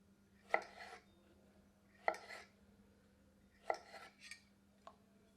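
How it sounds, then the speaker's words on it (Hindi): A knife cuts eight ball squash (chappan kaddu) into wedges on a board: three or four separate crisp slicing strokes, each a sharp tap with a brief scrape, spaced about 1.5 seconds apart, faint and close with no talk. "तो हमने सारे चप्पन कद्दू काट लिए हैं।"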